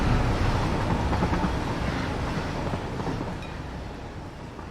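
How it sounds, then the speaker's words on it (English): A blue freight train in the factory-building game Satisfactory rushes past without stopping, a broad roaring rumble that is loudest at the start and slowly fades as it moves away. "The oncoming train is the blue line. The blue train does not stop in Drone City, it simply passes through."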